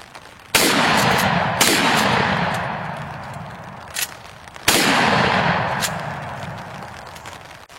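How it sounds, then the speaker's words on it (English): Shotgun fired outdoors in wet weather with Winchester 3-inch Magnum number 4 waterfowl loads: three loud booming shots spaced a few seconds apart, each trailing off in a long rolling echo. "now we're going to hit her up with some Winchester 3-inch Magnum number 4 waterfowl loads"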